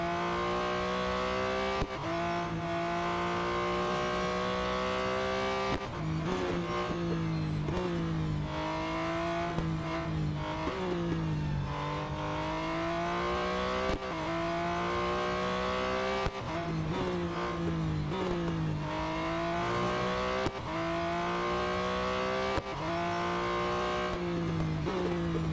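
Race car engine in the Real Racing 3 video game, loud and continuous, revving up through gears with repeated sharp shifts and drops in pitch, with tire squeal at times.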